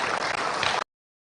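Applause from an audience at an Indonesian stunting-prevention event honouring women, a dense burst of clapping lasting under a second before cutting off.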